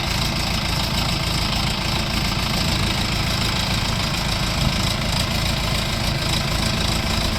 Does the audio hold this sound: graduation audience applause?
no